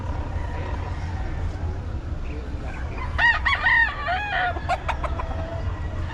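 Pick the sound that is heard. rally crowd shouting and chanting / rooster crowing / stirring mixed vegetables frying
rooster crowing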